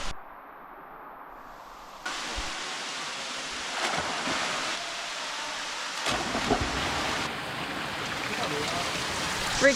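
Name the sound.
hot waterfall flowing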